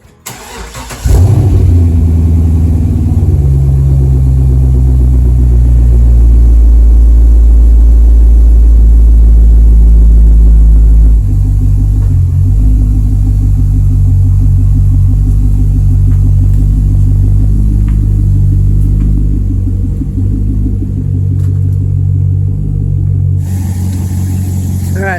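A 2005 Corvette convertible engine cranks and fires, then settles into a loud, deep, rumbling idle that runs close and steady for over twenty seconds.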